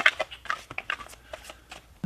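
A deck of tarot cards is shuffled by hand, a quick series of close, crisp riffling and flapping bursts in an uneven rhythm with no talk.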